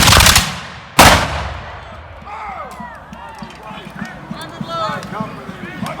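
Musket volley fired by reenactors at a Battle of Camden reenactment: a ragged burst of shots, then a second loud crack about a second later, followed by a long echoing outdoor tail with scattered pops, shouts and distant voices.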